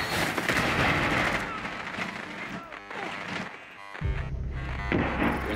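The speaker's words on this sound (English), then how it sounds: "I got breaching charges." A breaching charge detonates in Rainbow Six Siege on the Coastline map: a loud, broadband blast amid dense gunfire and game noise, with a deep rumbling tail near the end and voices underneath.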